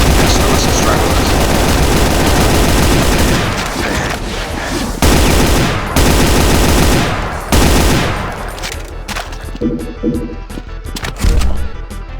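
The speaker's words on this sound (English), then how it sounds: "there's the SMG." Rapid SMG gunfire in the first-person shooter Brutal Doom, dense loud bursts in several long strings broken by short gaps, with explosions and game effects mixed in and a voice talking at times.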